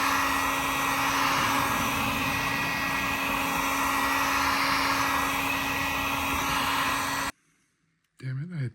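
A heat gun blows steadily at close range while drying paint, a loud continuous roaring whine with a constant hum, then cuts off abruptly near the end before a voice speaks.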